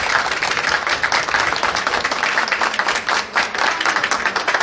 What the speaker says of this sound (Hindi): ये तालियां तो बनती ही है